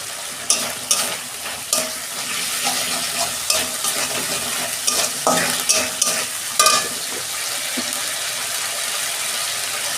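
Tomatoes with ginger-green chilli paste and spices stir-fried for a cauliflower and potato roast, a steady sizzle broken by repeated scraping and stirring clicks of the spatula against the pan, close and with no talking.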